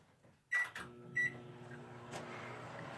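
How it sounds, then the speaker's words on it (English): A microwave oven gives two sharp beeps and a clunk as it starts, then settles into a steady low electrical hum that runs on quietly. "I didn't turn the microwave on."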